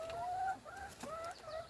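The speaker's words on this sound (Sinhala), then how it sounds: "මෙන්න ගයිස් කුකුල්ලු සෙට් එක." Chickens on a small farm cluck softly, with several short, quiet calls close by.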